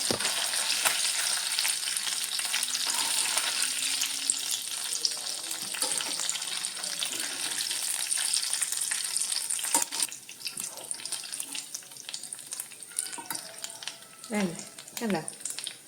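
Anchovy (natholi) fry with curry leaves bubbling in hot oil makes a close, continuous hiss for about ten seconds, then thins to a softer sizzle broken by scooping and stirring clinks, with a brief voice near the end.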